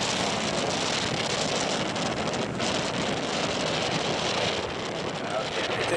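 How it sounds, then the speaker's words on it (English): Blustery wind buffets the microphone in a loud, steady roar with gusty surges, filling the whole stretch without pause. "It is blustery down here."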